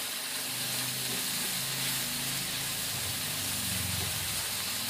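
Pechay stalks sauté in a hot pan with a steady, bright sizzle and hiss, loud and continuous, with faint low clatter underneath and no talking.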